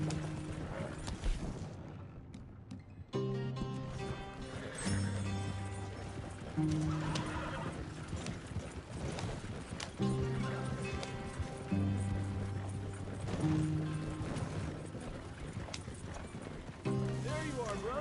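A horse gallops in Red Dead Redemption 2, rhythmic hoof clip-clops and an occasional whinny running under game music, with voices talking over it.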